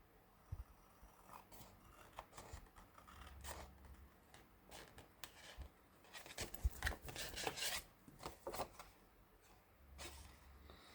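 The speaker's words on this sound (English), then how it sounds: "I'm just going to cut that out, cut around that file folder." Scissors cutting around a decorated paper file folder: quiet, close snips and rasping paper rubs come in irregular bursts, busiest around the middle, with faint background hum and no talking.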